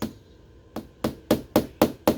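Hammer strikes driving a nail into a piece of wood, six sharp knocks in a steady, quickening rhythm after a short quiet opening, close and clear with no talk.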